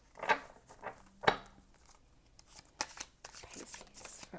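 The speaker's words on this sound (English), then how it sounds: "Do one more shuffle and then we'll get into it." Tarot cards being shuffled, a few crisp riffling bursts followed by lighter scattered card taps and flicks, close and fairly quiet with no talk.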